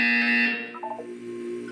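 A buzzer in the Portal 2 video game sounds once, a bright, harsh electronic tone lasting about half a second, followed by a low lingering electronic hum, with no one talking.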